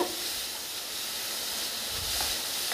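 Carrots sauté in a pan over a low simmer, giving a steady, soft sizzling hiss that continues evenly throughout with no voices.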